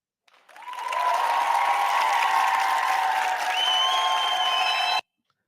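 A cheer sound effect plays during a live stream: a burst of crowd applause and cheering rises quickly, holds steady and loud for about four seconds, then cuts off abruptly.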